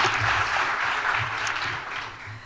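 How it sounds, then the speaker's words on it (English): Steady applause from a crowd at a sports awards ceremony, continuous clapping throughout, fairly loud and close, with no pauses. "Let's give Donna Watson a nice round of applause for all of that."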